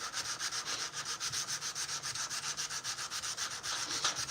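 Steady back-and-forth strokes of sandpaper rubbing on a steel knife blade, a rhythmic scratchy rasp repeating about every quarter second, close and fairly quiet.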